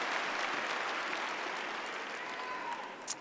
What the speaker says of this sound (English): Let's give her another round of applause to Ratina